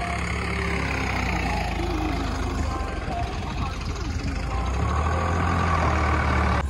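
A tractor engine works hard through wet soil, a steady loud diesel drone that holds throughout with a deep rumble and slight swells in load, with faint voices underneath.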